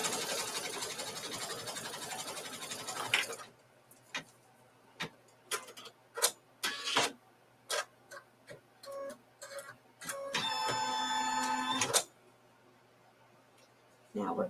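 A sewing machine stitches down a quilt block, running in a steady rapid whir at first, then stopping for scattered clicks and handling sounds before another short burst of stitching, with a voice heard briefly.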